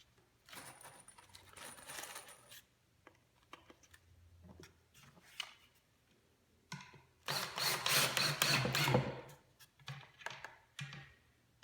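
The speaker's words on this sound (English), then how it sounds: "When you're screwing it together" Parts of a wooden farm planter screwed together through pre-drilled holes, heard as faint scattered clicks and ratcheting bursts with a louder stretch of grinding, rattling turns near the end.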